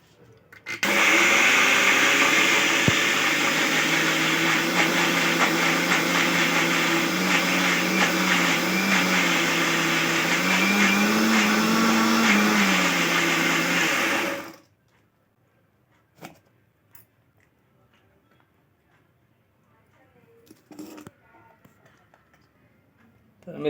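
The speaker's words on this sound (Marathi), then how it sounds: "आता आपण ते डाळ पिसून घेऊया." A kitchen mixer grinder grinds dry moong dal without water, a loud steady whirring roar for about fourteen seconds that cuts off abruptly into near silence broken by faint clicks and handling sounds.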